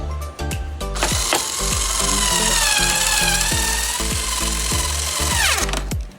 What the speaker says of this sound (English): remember I had this small drill